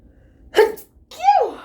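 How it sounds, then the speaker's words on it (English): A single sharp sneeze, a quick inhale followed by a forceful burst, close up in an otherwise quiet room. "I'm sorry, I had to sneeze."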